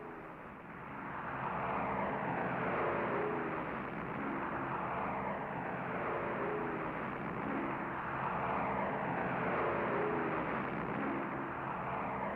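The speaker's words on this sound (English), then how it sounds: "9 bombers lumbered down the island's runway to launch the first attack of the Battle of Midway" B-17 bombers roaring down an island runway during the Battle of Midway, a steady, dense engine drone with slow swelling beats that holds loud and unbroken throughout.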